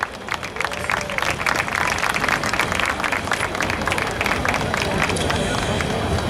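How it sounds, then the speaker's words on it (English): Sustained applause and clapping from a crowd at a Diwali community celebration honoring a gold-level sponsor, steady and fairly loud throughout with a babble of voices mixed in. "A round of applause for YNL."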